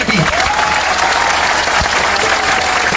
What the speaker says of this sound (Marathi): एकदा जोरदार टाळ्या होत्या आपल्या मायबापासाठी